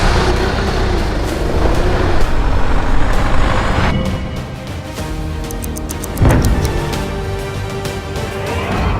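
A donated aid vehicle drives along the road, its engine and tyre noise a steady broadband rumble inside the cab, with a few brief clicks and a thump partway through.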